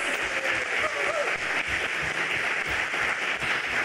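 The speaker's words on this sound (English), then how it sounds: "Huge round of applause, please," Audience applause for a security culture panel at a DEF CON conference village, a dense, continuous wash of clapping from a large crowd that holds at a steady level throughout.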